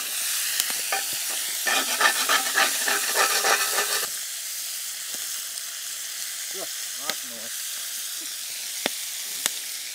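Bacon frying in a pan at a campsite, a loud close sizzle with crackling for about four seconds, then dropping to a faint hiss with a few soft clicks and scattered quiet sounds.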